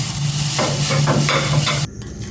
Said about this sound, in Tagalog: Nagpiprito ng toyo.